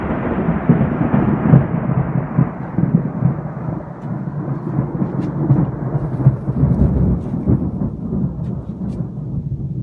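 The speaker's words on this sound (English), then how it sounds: "The storm's going to blow straight over the top." A thunderstorm rolls in as wind picks up, with continuous heavy rain and deep rumbling thunder filling the air at steady, loud intensity and no voices.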